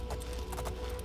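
Horse hooves clip-clopping in the video game Oblivion, a quick pattern of hoof beats under a constant loud background of game ambience and music.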